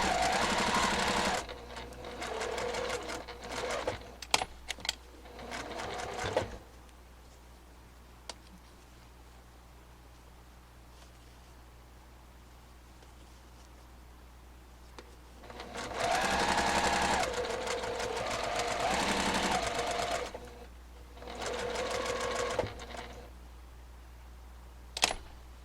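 A sewing machine stitches a folded fabric face mask in loud, steady whirring bursts, running for several seconds at the start and again near the end with short backstitch pauses, while the middle stretch stays quiet.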